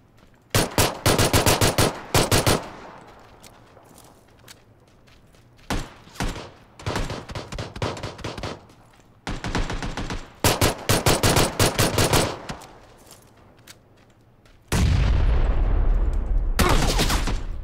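Bursts of rapid rifle gunfire in the video game RimWorld, loud volleys of close shots coming in several separate strings with short pauses, ending in a sustained heavy roar.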